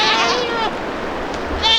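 Goats bleat on a snowy farm during a winter blizzard. One wavering bleat opens the clip and another comes at the end, both loud and near, over background noise.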